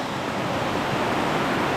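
Broad, steady roar of Bear Creek waterfall in Arkansas, heard from just below the falls, a dense continuous rush of falling water filling the whole clip with no voices.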